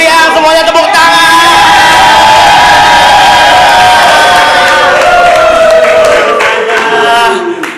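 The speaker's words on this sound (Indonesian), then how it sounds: "Semuanya tepuk tangan" Party guests at a Sweet 17 birthday celebration cheer and whoop loudly as a crowd, a dense continuous roar of voices with shouts rising over it and some clapping, steady throughout before trailing off at the end.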